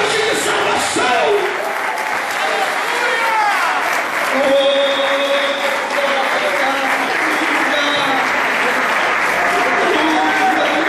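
A church congregation applauds loudly and steadily for about eleven seconds, dense clapping filling the room, with voices talking and calling out over it.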